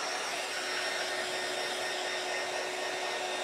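A hair dryer blows on a jeweled snowman craft, a loud, steady, close-up whooshing hum that holds constant throughout.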